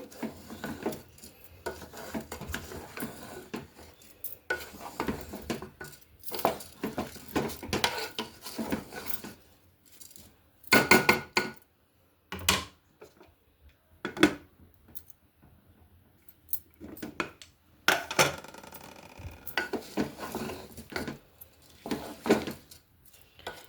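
Rice and moong dal are stirred as they fry in ghee for khichdi, with repeated scraping and rasping of a spoon against the pan in irregular bursts, close by, with pauses between strokes and no talk.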